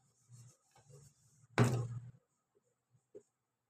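Chalk or marker rubbing across a board as digits are written for a Vedic maths calculation, a short scraping burst near the middle, with soft murmured talk before it.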